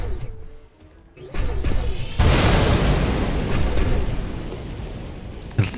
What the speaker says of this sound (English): At least the explosion didn't damage my people.